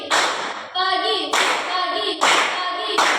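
Rhythmic bursts of hand clapping in short groups, fairly close and loud, with a class of people clapping together in a patterned clapping game.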